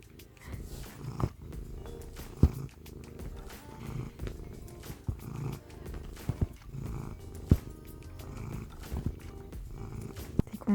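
A house cat purrs close up in a steady, rumbling rhythm of repeated low vibrating breaths, soft and continuous with occasional small clicks, in the morning on returning home from vacation.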